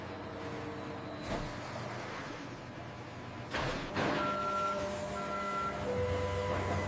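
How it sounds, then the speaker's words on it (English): Idling diesel transport truck rumbling near a sawmill loading dock, with a hiss of air brakes, then steady repeated reversing beeps as it revs and pulls away. "The transport vehicle exits after completing the loading operation."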